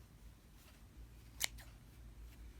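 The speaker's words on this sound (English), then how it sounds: "Sometimes I just stick my scissors in there and it'll catch on a loop." Scissors snip a single time through yarn pom pom loops, a sharp brief cut followed by a fainter scrape, in an otherwise quiet room.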